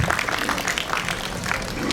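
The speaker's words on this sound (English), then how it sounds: "A huge round of applause for all these fantastic achievements" A school orientation day audience claps steadily, a dense, even patter of many hands filling the space without a break.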